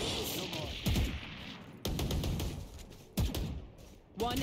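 Gunfire in the tactical shooter game Valorant: four sharp, separate shots spaced about a second apart, each followed by a brief ringing tail. They sound close and punchy, and a voice is heard under the action.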